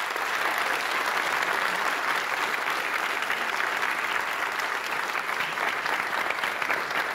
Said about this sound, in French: On peut leur faire un tonnerre d'applaudissements.